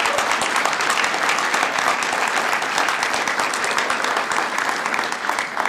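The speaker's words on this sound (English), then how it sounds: "Let's give them a round of applause." Steady, dense clapping from a large crowd, loud and sustained throughout with no pauses.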